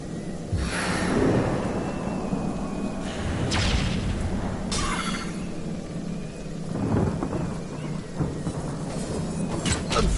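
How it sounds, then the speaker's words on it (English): Thunder from a lightning strike in Divinity Original Sin rolls and booms over steady rain, with several loud cracks and rumbles spread across the stretch and no talk. "I've been struck by lightning! I've been struck by lightning!"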